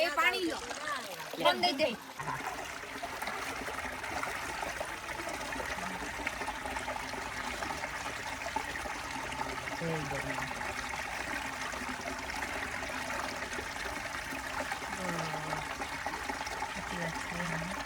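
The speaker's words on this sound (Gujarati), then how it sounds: "પાણીનો અવાજ કેટલો મસ્ત આવે" Steady broadband rush of a large river flowing in the UK runs throughout, with a brief burst of nearby voices at the start and faint talk mixed in later.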